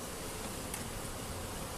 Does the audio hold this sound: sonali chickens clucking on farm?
no